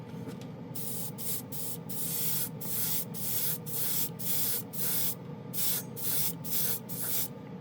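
Seymour Extreme FX Chrome spray paint hisses through an airbrush setup at 20 psi in a run of short repeated bursts, close and steady with brief pauses between passes.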